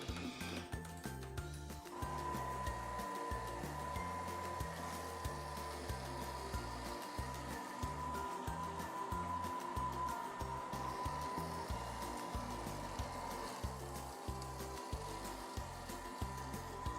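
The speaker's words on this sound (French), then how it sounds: "On programme le Thermomix pendant 2 minutes 30 sur la vitesse 5" A Thermomix runs steadily at speed 5, kneading choux pastry dough with eggs, a loud continuous motor whir with a sustained hum and rhythmic churning thumps underneath, starting abruptly after a brief moment.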